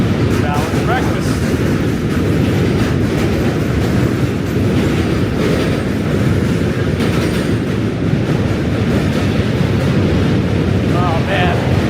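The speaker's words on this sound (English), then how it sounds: "Oh man, another train emerged." A New York City train rolls past in Manhattan with a loud, steady rumble and roar that fills the whole stretch, mixed with wind buffeting the microphone and street noise.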